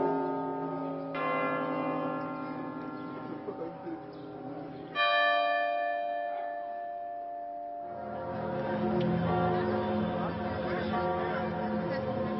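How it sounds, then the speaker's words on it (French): Church bells toll with the great bourdon of Notre-Dame de Paris at a solemn mass, long ringing strikes whose tones hang and overlap, loud and resonant, with a muffled crowd or broadcast murmur joining toward the end. "Les cloches qui résonnent comme le bourdon de la cathédrale."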